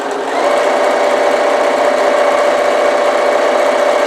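A sewing machine back stitching along a cushion cover seam, running as one continuous, even, high-pitched whirring hum close up after a brief start, with no voices.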